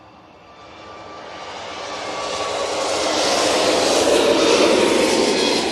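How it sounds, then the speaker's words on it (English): A Swiss Airbus A321neo airliner at Manchester Airport roars with broadband jet engine noise, rising steadily in loudness as it nears and holding strong at the close, with no voices. "Swiss A321 Neo"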